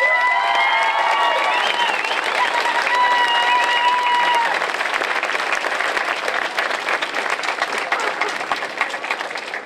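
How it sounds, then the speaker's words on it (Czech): A large audience at a folk dance show claps loudly and steadily, with scattered cheers and children's shouts, and a voice rising over the crowd at the start. "a ještě o jeden potlesk vás poprosím"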